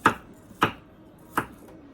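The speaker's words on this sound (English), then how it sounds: "So let's get this onion cut up." Three crisp knife chops through an onion on a cutting board, close and evenly spaced, with quiet gaps between and no talk.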